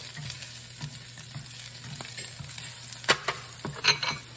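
Onion and fresh garlic sizzling in oil over low heat for a wheat noodle lo mein, a soft continuous fry with light clinks and scrapes of stirring that grow louder toward the end.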